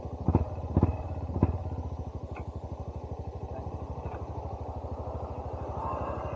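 A motorcycle engine idles close by with a fast, throbbing putter, a few louder knocks and clatters early on, then a steady rhythmic chug.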